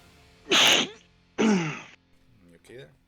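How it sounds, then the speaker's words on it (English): A person sneezes twice in quick succession, loud and close, during a tabletop game session, followed by a softer throat-clearing sound. "I don't know why I'm sneezing so much"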